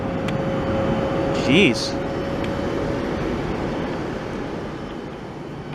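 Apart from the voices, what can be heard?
airliner landing at Newark airport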